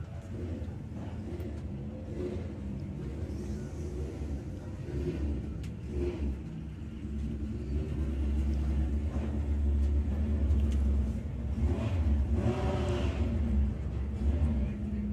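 VW Beetle in VW Pro drag racing eliminations at Santa Pod, a steady engine rumble that swells louder in the second half, heard from a distance.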